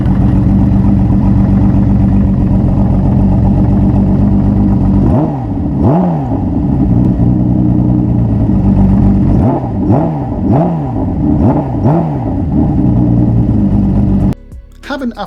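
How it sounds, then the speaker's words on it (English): A Kawasaki Z1300 motorcycle, a big old engine, starts up and runs close by with a deep, steady rumble and several quick throttle blips rising and falling before it cuts off abruptly. "Press the starter and the big old lump comes to life with very minimal vibrations"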